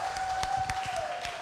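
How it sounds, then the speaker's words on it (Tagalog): Congregation at a healing church service applauding: a steady wash of clapping with several sharper claps, loud and close, with a sustained tone running underneath. "Yung malakas na palakpak,"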